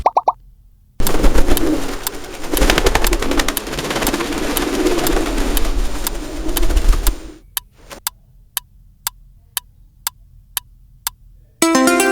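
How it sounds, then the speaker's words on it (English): Pigeons coo in a soft, murmuring, continuous stretch lasting several seconds, followed by a few sharp isolated clicks and a brief final burst. "Pigeons go softly just like a cat purr."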